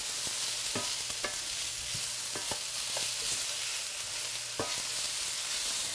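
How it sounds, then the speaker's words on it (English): Vegetables are stirred in a frying pan over a steady, close sizzle, with a few distinct spatula knocks and scrapes spaced irregularly across the moment. "we're just going to stir that in"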